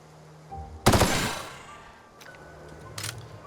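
A gun fires in the video game The Outer Worlds, one loud, sharp blast with a long crackling tail, then a fainter second burst a couple of seconds later.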